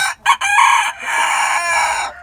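A crossbred İspenç rooster lets out a single loud, close crow after a couple of short clucks, the long call holding steady before cutting off.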